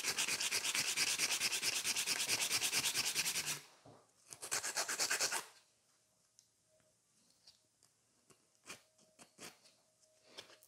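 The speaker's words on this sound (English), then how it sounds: "So that's 100 by 180 grit file, and I'm filing" A 100/180 grit nail file rasps steadily over a sculpted stiletto gel nail on a form, in fast dense strokes that stop, resume briefly, then give way to a few faint scrapes.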